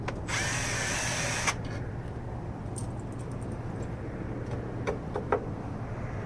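A power tool driving a 1/2 inch drive 10 mm socket on a K24 engine in an 07 Integra, whirring in a short loud burst, then followed by scattered metallic clicks and clanks in a quiet garage.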